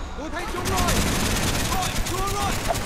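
Rapid bursts of Call of Duty: Black Ops video game gunfire crackle under a voice, with whooshing effects in the background.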